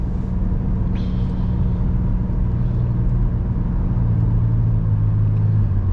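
Traffic rumbles close by as a car accelerates after pulling out, its engine rising in a steady low roar with a brief higher squeal early on; no one speaks.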